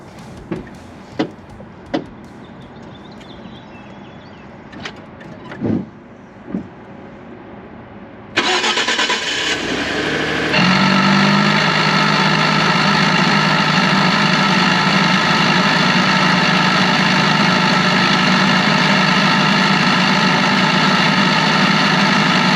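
A 2012 Ford F150 pickup engine cranks briefly and starts, then settles into a loud, steady idle close by, following a few scattered knocks and clicks beforehand.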